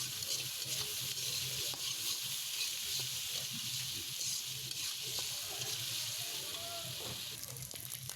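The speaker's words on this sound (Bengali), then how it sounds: "তাই আগে আমি চিংড়িটাকে ভাজা নিব ভালো করে।" Prawns frying in a pan with turmeric and chili, a continuous close sizzle with occasional stirring scrapes, steady and fairly quiet throughout with no talking.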